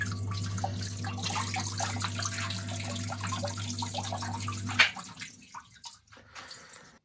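Water flows steadily from the pump outlet of a Grainfather S40 brewing system over a low motor hum, then cuts off and leaves a few faint drips and splashes.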